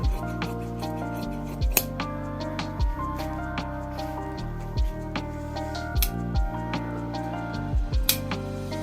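Scissors cut through suit fabric in a tailoring session, producing a series of sharp, close snips at irregular intervals over a steady background with faint tonal hum.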